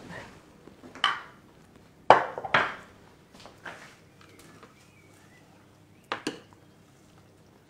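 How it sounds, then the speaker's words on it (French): A spatula stirs fresh herbs in a Thermomix bowl, giving a few soft scraping knocks and clicks, sparse and irregular, close but quiet against near silence. "les herbes aromatiques fraîches, mélangées à l'aide de la spatule"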